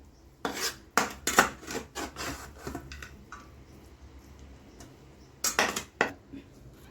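Mango pulihora rice is stirred and mixed in a vessel, producing bursts of scraping and rubbing strokes in two clusters separated by a quiet pause.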